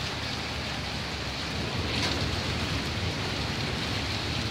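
Heavy hailstorm in Germany pounding down as a dense, steady roar of impacts on surfaces, continuous and loud throughout without talk.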